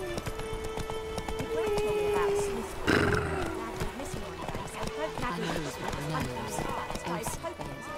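Roach the horse trotting in The Witcher 3, a steady clip-clop of hooves with a brief whinny near the three-second mark, set against game ambience and music.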